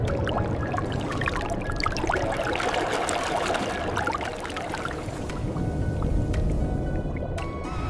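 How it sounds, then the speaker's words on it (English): Massive iron pipes pour millions of gallons of water into cranberry bogs at harvest, giving a steady, dense rush and splash of flowing water that stays loud and continuous throughout, with no voices. "the bogs must first be flooded with millions of gallons of water from these massive iron pipes"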